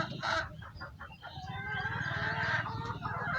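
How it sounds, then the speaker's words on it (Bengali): Chickens in a village poultry farm where hens lay eggs on the litter floor cluck and call continuously at moderate distance, a busy overlapping flock chorus with a rising crow-like note near the middle. "দেখেন কত সুন্দর মুরগিতে ডিম পাড়ে পাড়ে রাখছে"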